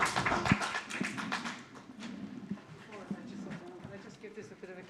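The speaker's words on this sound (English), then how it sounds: "But a round of applause." An audience at a Heston & Cranford area forum meeting claps in a steady, dense patter with voices talking over it.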